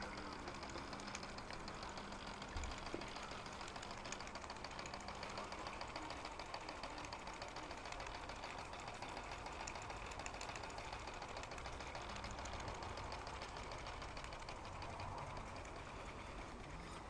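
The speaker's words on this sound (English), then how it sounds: "Quite an impressive engine," Märklin vertical model steam engine running in a workshop, a faint, steady mechanical chuffing and rattling that continues evenly throughout, with no voices.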